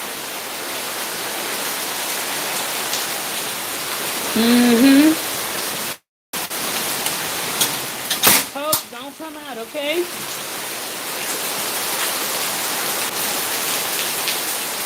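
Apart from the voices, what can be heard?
rain falling in Haiti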